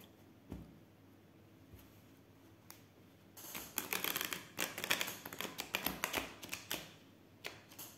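Oracle cards being shuffled by hand in a quiet room, starting with a few soft taps and then breaking into a close, crisp burst of rapid riffling flutters lasting several seconds.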